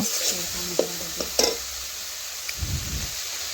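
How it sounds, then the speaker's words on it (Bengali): Spice paste with salt and a splash of water gets stir-fried in a pan for an egg and mung dal dish, a soft scrape of the spatula heard with short clacks and a low bubbling sizzle near the end, close and fairly quiet. "আবারও ভালোভাবে কষে নিচ্ছি"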